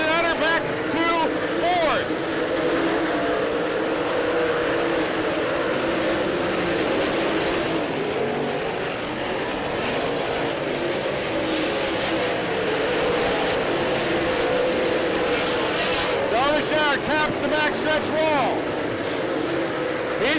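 Race cars circle the track during the 2013 Slocum 50, their engines producing a continuous roar with repeated whooshing pass-bys, heard under steady commentary from an announcer.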